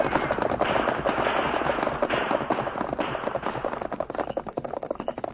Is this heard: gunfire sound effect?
yes